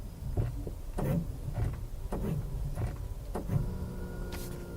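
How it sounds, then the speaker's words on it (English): Brakes on a 2019 Toyota RAV4 SUV make an odd sound: a series of short, fairly faint mechanical clunks and whirs recurring roughly every half second to second over a low rumble, with no talking. "The brakes make an odd sound"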